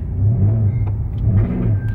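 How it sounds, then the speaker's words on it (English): A car with a broken exhaust weld runs close by, a loud continuous low engine rumble with slight rasping fluctuation throughout, no voices. "The weld on the exhaust broke. So it's dragging a little bit."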